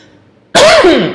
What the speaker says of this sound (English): I just start coughing.